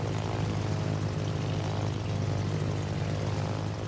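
Propeller bomber aircraft engines in a naval combat video game drone steadily with a thick low hum and a broad roar above it, constant and fairly loud throughout, with no talking.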